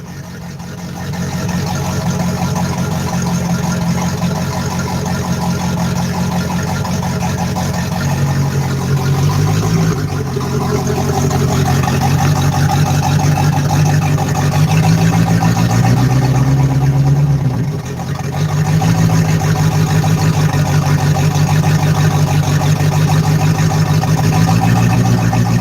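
A steady engine runs at high idle, loud and close, with a constant low drone and a few small dips in pitch, and no talking.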